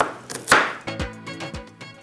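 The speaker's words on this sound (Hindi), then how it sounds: "प्याज को हम कट करते हैं" A knife chops an onion on a cutting board in a kitchen, a series of sharp, close knocks in an uneven rhythm with no talking.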